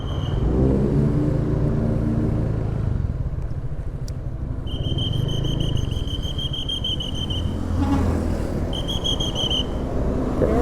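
A Honda Vario 125 scooter pulls away and rides off on a foggy mountain road, its engine humming and revving steadily up close, with a whistling tone and wind rumble throughout.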